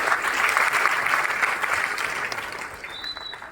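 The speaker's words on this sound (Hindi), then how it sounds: "जोरदार तालियां होनी चाहिए यार।" Enthusiastic applause from an audience at a business seminar, steady and dense throughout, gradually easing off toward the end, with no speech over it.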